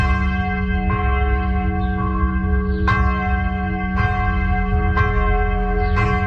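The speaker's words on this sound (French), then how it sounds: "Coulée en 1518 par des fondeurs genevois, elle sonne encore et toujours aujourd'hui dans le clocher du temple de Nyons." A bronze church bell cast in 1518 by Geneva founders, hanging in the tower of the temple at Nyon, strikes about six times at a slow, even pace, each stroke ringing on with a long humming resonance.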